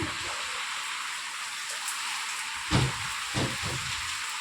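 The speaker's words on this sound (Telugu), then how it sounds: "కర్నూలులో ఫుల్ వర్షం పడుతుందండి" Steady hiss of heavy rain pouring down in Kurnool, coming into a house, with a few louder splashing bursts near the end.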